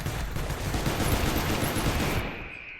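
Gunfire in the space station game Space Station 14, a dense, continuous rattle of rapid shots filling the scene before cutting off abruptly near the end.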